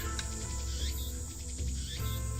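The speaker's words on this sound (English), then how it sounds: "Damn cicadas won't shut up!" Cicadas or crickets drone steadily on a hot late-afternoon, with a continuous high-pitched insect buzz that holds level throughout, loud and close, with no voices.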